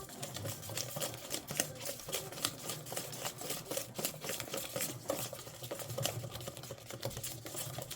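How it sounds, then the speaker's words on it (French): Butter being mixed with white, brown and vanilla sugar and a pinch of salt, a steady, rapid clatter of a utensil beating against a bowl in a quick, even rhythm, close and continuous throughout. "on va ajouter notre pincée de sel, d'accord, et on va mélanger"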